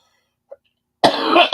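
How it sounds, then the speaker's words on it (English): After near silence and a tiny click, a loud close cough bursts out, followed by a second short cough. "I have to cough again"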